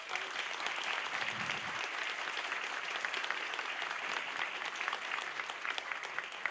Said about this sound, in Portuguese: palmas para o professor Jackson Pires